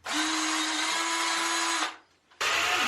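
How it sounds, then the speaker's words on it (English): A power drill whirs steadily into a block of wood, drilling a pilot hole for nearly two seconds, stops briefly, then spins up again, close and loud. "I'm just going to put a little pre-drill hole here into the middle of this block of wood."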